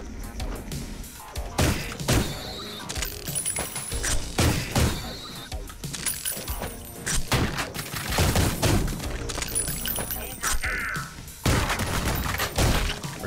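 Gunfire in the shooter Ion Fury comes in dense, chaotic bursts of shots and impacts that crowd the whole stretch, with clashing mechanical game effects and a voice speaking now and then.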